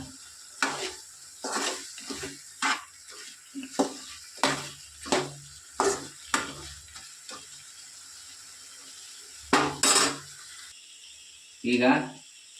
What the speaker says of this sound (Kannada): ಮಿಕ್ಸ್ ಮಾಡಿ ಒಂದು 5 ರಿಂದ 10 ನಿಮಿಷ ಚೆನ್ನಾಗಿ ಫ್ರೈ ಮಾಡೋಣ